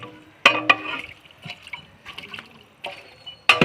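Water is poured into a cooking pot of mutton for village-style biryani, producing short, uneven splashes and gurgling bursts with quieter drips between them, heard close.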